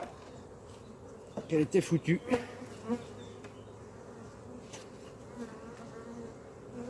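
Honeybees buzzing close by at an open hive: a cluster of loud, pulsing buzzes rises for about a second, then fades back to a low, steady background hum with soft, sparse sounds around it.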